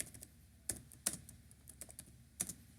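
Code typed on a computer keyboard during a C++ lesson, a few sharp, irregular key clicks spaced across a short, quiet stretch, close and clear.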